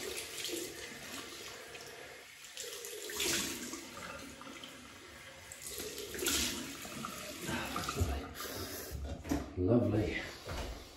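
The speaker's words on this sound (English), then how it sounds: "Cold water rinse." Cold water runs from a tap to rinse a razor, a faint steady splashing with a few knocks and clatters from handling at the sink. A voice speaks over parts of it.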